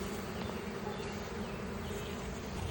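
Honeybees from a newly installed swarm hum around the entrance of a hive box, a dense, steady buzzing from many insects close by that carries on without pause.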